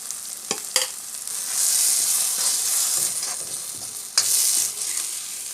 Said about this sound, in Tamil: மல்லித்தூள் பார்த்திங்கன்னா நல்லா எண்ணெயில் கொஞ்சம் சூடு காட்டிட்டு அதுக்கப்புறம் புளி தண்ணி ஊற்றிக்கலாம்.